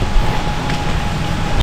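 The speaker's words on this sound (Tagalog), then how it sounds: "Ayan, patuloy yung ulan." Heavy rain pouring down steadily in a dense, continuous hiss and rumble, with wind-like noise mixed in and no speech.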